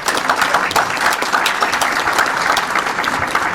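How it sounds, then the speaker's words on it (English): Steady, dense applause from a luncheon audience at a police awards event, many hands clapping continuously at close range with no gaps throughout. "We can clap for all of them."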